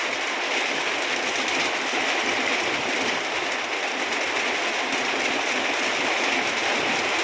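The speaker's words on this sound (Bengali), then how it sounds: "আপনারা দেখতে পাচ্ছেন কী ধরনের বৃষ্টি হচ্ছে।" Rain falls steadily after a long hot dry spell, a dense, even hiss of drops on surfaces that holds at the same level throughout with no talking.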